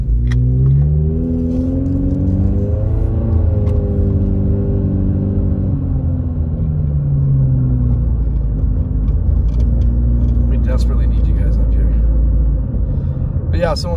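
A car drives along Baldwin Lake Road in Big Bear, California, its engine rumbling steadily and rising in pitch as it accelerates, with someone talking over the constant road noise.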